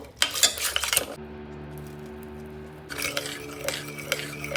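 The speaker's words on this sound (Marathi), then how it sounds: "शिजलेला पालक आणि डाळ मी आधी रवीच्या साह्याने घुसळून घेते" Cooked spinach and dal are churned with a wooden ravi in a pot, producing bursts of rapid clattering and swishing at the start and end, separated by a quieter stretch of steady hum.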